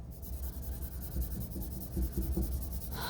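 A pencil shades on paper with hard pressure and overlapping strokes, making a steady, faint, scratchy rubbing close up, with no voices.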